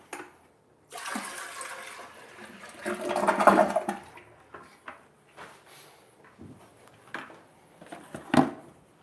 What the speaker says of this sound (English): And pour that water out.